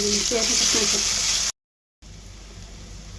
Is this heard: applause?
no